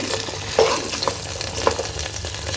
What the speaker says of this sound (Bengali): আলু এবং পটলগুলোকে আমি একটু ভেজে নেব